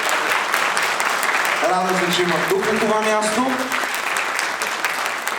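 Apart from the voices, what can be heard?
audience applause at awards ceremony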